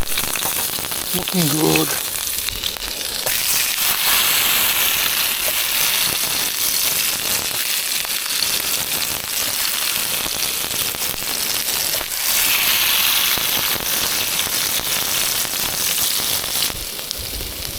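Steak sizzles steadily and loudly in a hot pan over a barbecue beside Lake Buffalo, a constant frying hiss that runs the whole time, with someone briefly speaking near the start.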